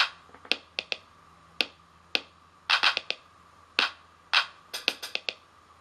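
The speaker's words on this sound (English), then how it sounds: "Put the claps right here." Programmed hand claps in GarageBand for iPad play as crisp, isolated percussive hits in an irregular rhythm, some in quick clusters, alone with no talk.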